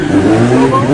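Motorbikes race and rev along Delhi roads at night, engines roaring loudly in a brief burst while a voice talks over them.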